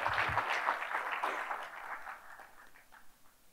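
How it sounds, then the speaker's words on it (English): Audience applause at an SDC India 2019 conference welcome session, a dense, even clatter of many hands that starts strong and gradually fades away. "So big round of applause for these folks."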